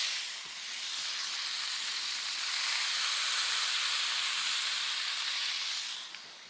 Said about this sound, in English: I'm gonna hit the pan with lemon juice.